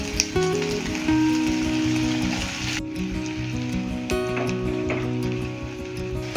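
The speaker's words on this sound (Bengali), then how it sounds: "এবারেই কুচনো আদা আর রসুনটা দিয়ে দেবো" Chopped ginger and garlic fry in hot oil with a steady, dense sizzle throughout, close and loud, with faint stirring underneath.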